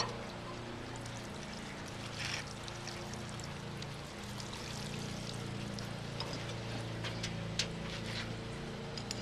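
Water is poured steadily from a bottle into a planter made from a recycled Clorox bottle growing basil, a continuous soft trickle and splash at close range with no talking.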